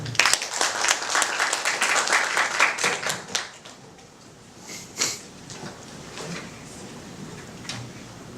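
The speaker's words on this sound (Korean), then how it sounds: "박수로 모시겠습니다" An audience at an academic conference applauds to welcome a presenter: a brisk round of clapping that fades after about three seconds into a few scattered claps and quiet room noise.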